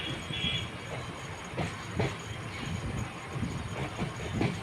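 A train rolling slowly over Farakka Bridge toward New Farakka Junction station, giving a steady rumble with faint, irregular wheel clatter and knocks, heard alone with no talk.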